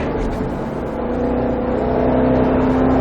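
A Shelby GT500 accelerates hard on a race circuit, its engine note rising steadily and growing louder over a few seconds, heard close up from inside the car with no talking.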